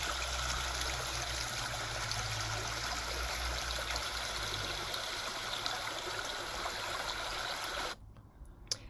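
Trout Creek flows with a steady, close rushing and trickling of water that fills the scene, then drops abruptly to quieter outdoor ambience near the end.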